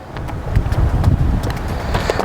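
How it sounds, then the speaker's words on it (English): Wind gusts over a golf course near the 18th green, rumbling against the microphone in uneven bursts with a few faint clicks and knocks, and no talking. "Getting windy out here."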